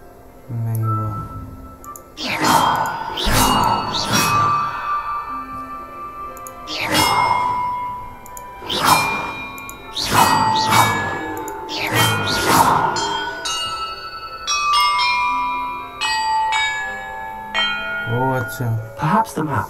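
Bells ringing in the video game Hogwarts Legacy: repeated loud, reverberant bell strikes spaced a couple of seconds apart, then a cluster of higher tinkling chimes, all over quiet game ambience.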